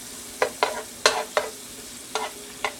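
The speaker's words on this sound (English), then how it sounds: "I'm gonna stir fry that up, let that cook a little bit in there" Vegetables for a seafood gumbo stir-fried in a pan, heard as a series of six short, sharp scraping stirs spaced unevenly over a faint background, fairly close and with no talking.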